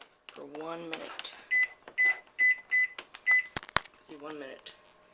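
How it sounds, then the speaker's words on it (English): A microwave oven being set to heat a Rubik's cube for one minute, giving a series of short, evenly spaced keypad beeps and a clunk, with a person talking before and after. "the magic cube is now going to be going into the microwave for 1 minute"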